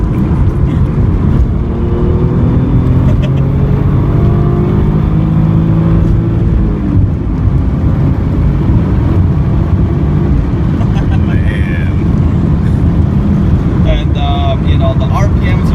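A right-hand-drive Toyota Supra MK4 engine idles and cruises at low RPM, a steady loud drone with rumbling lows that continues evenly throughout, with people talking over it.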